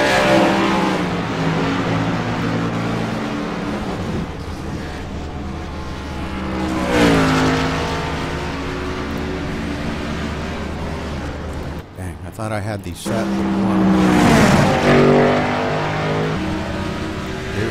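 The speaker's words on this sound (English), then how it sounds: "I like them up there so you can hear the cars" Race cars roar around a track, engines droning loud and close with rising revs and passing sweeps, while a person talks over the noise.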